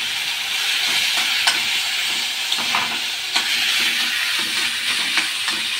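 Boiled noodles stir-fry with garlic and green chili in a pan, a steady hissing sizzle broken by repeated spatula scrapes and tosses at uneven intervals, close and fairly loud, with no talking.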